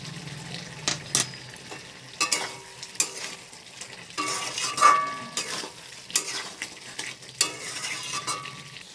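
Soya chunk curry stirred in a pan, with scrapes and knocks of the spoon against the pan coming in irregular bursts over a low sizzle, close and moderately loud.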